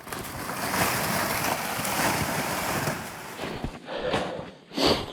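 Wading across a creek in a cedar swamp in winter: steady broadband water rush and splashing, close and loud, continuing for several seconds with a few sharper sloshing bursts near the end.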